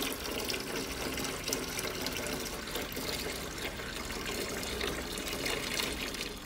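Water runs steadily into an Elechomes top-fill humidifier, a continuous even splashing and hissing stream that stays at the same level throughout with no speech.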